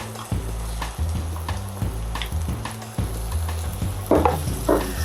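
Banana da terra plantains go into a pan of frying onions for Brazilian fish moqueca, a continuous sizzle with repeated stirring knocks and scrapes, close and fairly loud.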